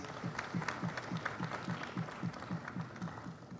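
An audience at a formal launch event in Uganda gives a round of applause, heard as a fairly faint, evenly paced patter of clapping hands from a distance in a large room.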